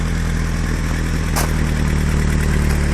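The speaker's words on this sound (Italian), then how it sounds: "La macchina è a posto, adesso si riscalda." A car engine idles steadily while warming up, with a close, even low rumble and one brief sharp click partway through.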